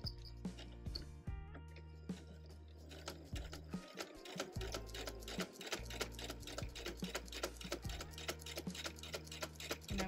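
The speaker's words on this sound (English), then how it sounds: "So I have my walking foot down. I'm going to go twice and then back stitch." A sewing machine runs a line of top stitching on a baby blanket with a walking foot engaged, then back stitches. It gives steady rapid needle ticking with brief pauses and restarts, close and alone.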